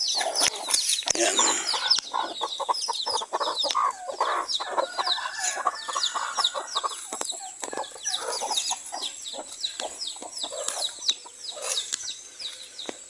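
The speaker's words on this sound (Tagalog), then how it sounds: "Check din natin yung mga manok natin dito." Farm chickens cluck and squawk in a busy, overlapping chorus at moderate distance, steady throughout with occasional louder calls and faint background voices.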